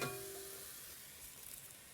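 Food fries in a pan while being stirred, producing a faint, steady hiss of sizzling with a small clink of the utensil at the start.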